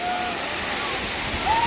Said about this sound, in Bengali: ঝর্ণা দেখেন, ওটার ওই পানির ওই ঝাটকা চলে আসছে কত দূর।